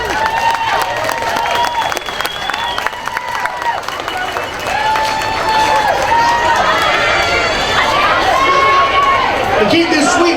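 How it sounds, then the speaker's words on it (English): A high school gym crowd applauding and cheering for team managers and coaches at a fall sports introduction, sustained loud clapping and whoops throughout, with a sports tone sounding near the end. "Big round of applause for our managers and our coaches."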